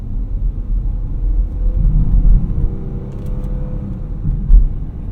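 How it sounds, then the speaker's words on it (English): A 2017 Dodge Charger V6 engine idles with a steady low rumble, a slight swell partway through, no voices. "Yeah, you hear the engine."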